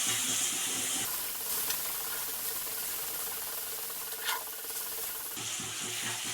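Fish fries in a pan and is stirred, giving a soft continuous sizzle and hiss with faint scraping, quiet and close, with no talking.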